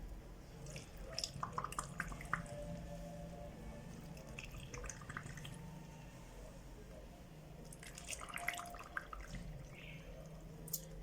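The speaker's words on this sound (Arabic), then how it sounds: "انا هملي بقى البرطمان هنا" Salt water brine poured into a glass jar of turnips, giving a steady wet trickling and splashing that comes in short uneven bursts and swells near the end, close and fairly quiet against a low room hum.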